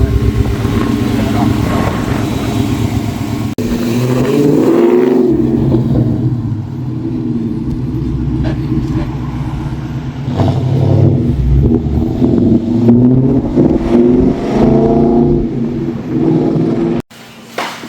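A Ford Mustang Mach 1 with a stage 3 Comp Cams camshaft drives on the road, its engine droning loud and steady from inside the car with a deep rumble that rises and falls, under people talking.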